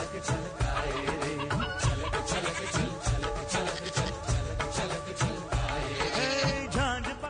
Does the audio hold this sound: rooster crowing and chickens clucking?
yes